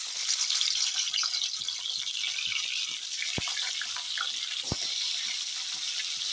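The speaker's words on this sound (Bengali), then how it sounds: "এখন আস্তে আস্তে পনিরগুলো ছেড়ে দিই" Pieces of paneer fry in hot oil in a wok, giving a steady, close hiss and sizzle with scattered pops and two sharp crackles.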